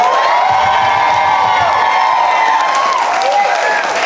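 A comedy club audience cheers, whoops and claps loudly for a comedian at a New York one-liner show, a dense continuous roar of shouting voices from close by that fades slightly at the end.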